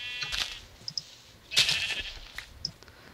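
Blocky sheep in the Minecraft video game bleat in short, nasal cries, a couple of clear calls spaced over a few seconds alongside small game clicks, with no talking.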